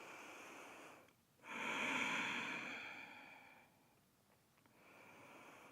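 Slow, soft breaths in a quiet room during a resting pose after a bakasana yoga flow, with one long audible exhale and a fainter second breath, no talking.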